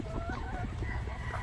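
Chickens on a farm in Madre de Agua cluck softly in short, repeated calls, close by over a low background rumble.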